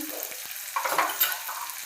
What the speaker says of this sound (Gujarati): ખાંડવીના દાણા નાખશું આપણે ધીમે ગેસે તળવા દઈશું